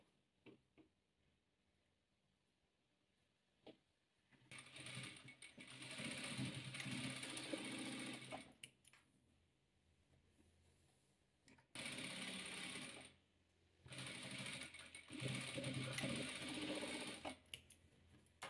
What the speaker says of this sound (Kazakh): Енді осыны тігеміз.